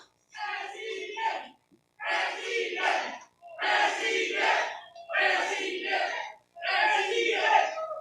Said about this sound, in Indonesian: Boleh berikan tepuk tangan yang meriah buat kita semua.